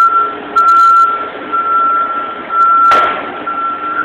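Loud truck reversing alarm, a steady series of high electronic beeps repeating at an even pace over low engine rumble outdoors at night, with a brief sharp bang near the end.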